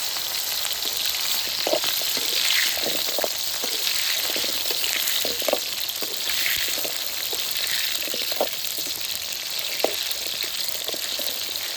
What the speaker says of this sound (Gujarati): હવે આપણું તેલ થઈ ગયું છે ગરમ, એટલે છે ને ડુંગળીને હવે ફાઇનલી તળી નાખીએ